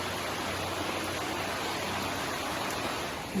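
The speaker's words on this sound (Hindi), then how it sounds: "बारिश अभी भी हो रही है" Steady rainfall hisses evenly throughout, a dense, constant patter without any voices.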